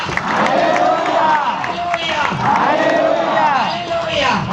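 A church congregation clapping loudly and rhythmically at a Hindi Sunday worship service, the clapping sustained under a preacher's amplified voice and singing.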